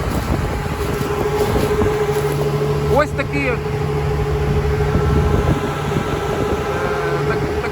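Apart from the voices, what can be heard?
Sich 6 Pro no-till seeder running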